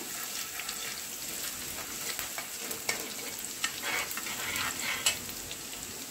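Garlic frying in oil in a pan for pakora kadhi, a steady close sizzle with scraping stirring strokes and occasional clicks of the spoon against the pan, no voices.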